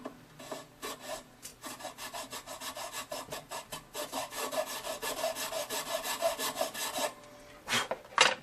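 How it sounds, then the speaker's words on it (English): A hand file rasps a tusk nut on a Gibson Jumbo guitar in close, rhythmic back-and-forth strokes that speed up and grow louder partway through, with no talking. "I'm trying to hold the file at the same angle the peg head here is."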